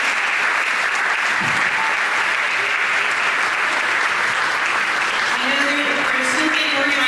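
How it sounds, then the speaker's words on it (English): Loud, sustained applause from a concert audience at a music camp, honouring the camp staff, steady and unbroken for several seconds, with a few faint voices rising near the end. "Please give them a huge round of applause."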